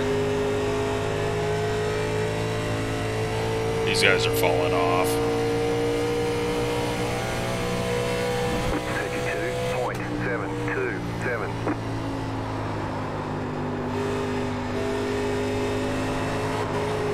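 Simulated 1987 NASCAR Legends race car at Charlotte Motor Speedway in iRacing drones loudly throughout, its engine note sliding down and back up. Someone talks briefly over the engine.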